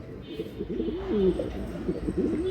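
Racing pigeons coo softly nearby in a short run of low, rolling calls that repeat in quick succession with little else around them.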